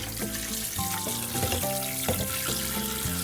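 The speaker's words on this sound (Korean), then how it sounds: "물로 뭐, 깨끗이 씻고요." Tap water runs steadily in a sink as boiled pork bones are rinsed for gamjatang. The water hisses and splashes continuously, with bones clattering and knocking in the water at close range.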